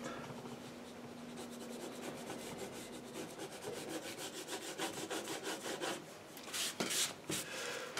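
A flat brush scrapes and lifts paint off watercolour paper with steady, close rasping strokes, growing in rhythm toward the end.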